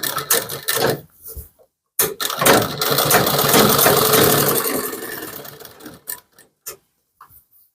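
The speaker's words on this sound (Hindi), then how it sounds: "मैं गला पर पूरे सिलाई लगाऊंगा" A sewing machine stitches around the neckline of a kurti, starting and stopping in short bursts and then running for one sustained mechanical whir of about four seconds, loud and close, with no speech.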